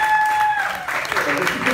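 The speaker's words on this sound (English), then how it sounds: "a big round of applause for all your comedians tonight" An audience at a comedy show applauds the comedians, broadband clapping swelling up after a brief opening tone and continuing steadily to the end.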